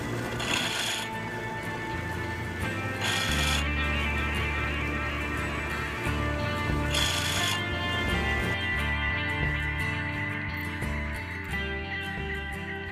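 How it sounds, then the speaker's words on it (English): A countersink bit cuts into a hole in metal latch stock, giving a steady grinding, rubbing rasp with a few brief brighter scraping bursts, close and continuous with no talking. "I'll countersink that just a little bit in here"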